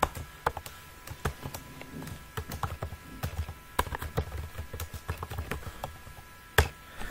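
C# code typed on a computer keyboard, a steady run of close, crisp key taps with uneven rhythm and a few heavier strokes, no speech.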